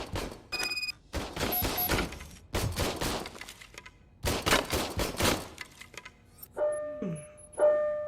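Repeated bursts of a police service weapon firing in RoboCop: Rogue City, sharp loud shots in uneven clusters separated by short gaps, with electronic game beeps near the end.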